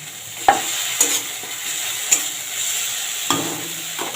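Slit green chillies go into a pan of softened tomato with turmeric for spinach dal, giving a steady soft sizzle broken by several sharp scraping stirs of a spatula, close by with no voices.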